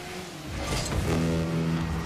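Car engine revving in the video game Rocket League, a rising, busy roar with shifting engine tones under a wash of game noise, moderately loud and continuous with no talking.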